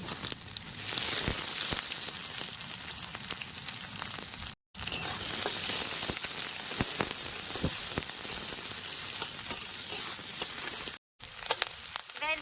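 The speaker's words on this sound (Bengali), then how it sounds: "পেঁয়াজ আধা ভাজা হয়ে গেছে" Chopped onions with green chillies fry in hot mustard oil in a pan, a steady close sizzle with small crackles that carries on alone, broken by two brief silences.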